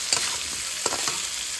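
Spiced fish curry with thankuni leaves sautéing in a pan for singh maacher jhol, a steady broadband sizzle with a few sharp spatula scrapes and clicks, close and alone without talk.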